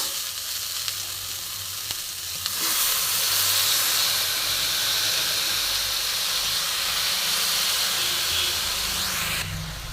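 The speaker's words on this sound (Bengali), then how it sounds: "এবার আমি সব শাকটা দিয়ে দেবো।" Pumpkin greens dropped into a pan of hot oil with lightly fried potato: a sudden steady roar of sizzling and hissing that stays loud and even for several seconds.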